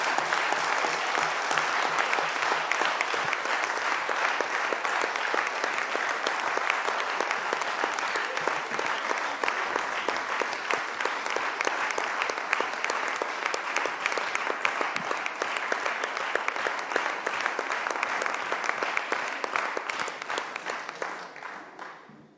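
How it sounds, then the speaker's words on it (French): A council audience gives a long, steady round of warm applause, dense and even throughout before fading out at the end. "ma fierté des propos d'Aurélien Boullé que je vous demande d'applaudir chaleureusement."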